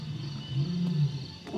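Lion roaring in a cartoon, a single low sustained growling roar swelling in the middle and fading, heard alone without speech.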